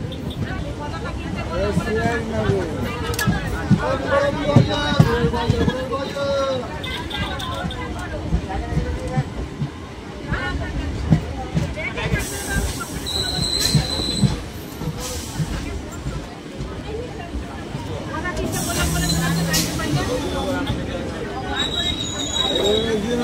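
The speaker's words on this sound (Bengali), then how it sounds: "আমাদের ট্রেন এখন ঢুকছে বেলডাঙ্গার আগে স্টপেজ রেজিনগর" A memo train on the Naihati–Berhampore line rolls into Rejinagar station, with rumbling wheels, intermittent high squeals and a steady clatter under nearby passenger chatter and a voice talking.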